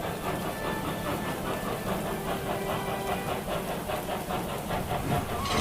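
Steam engine Emily puffing quickly down to the docks, a soft, steady rhythmic chuffing with hiss, moderately close and without talk.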